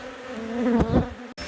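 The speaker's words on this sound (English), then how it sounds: "When we first expose a hive, the bees all come out to the exposed surface and just swamp it" A swarm of bees pours out of an exposed large beehive during a relocation on canola, a loud close steady buzzing drone that swells in the middle, broken briefly by a sharp click near the end.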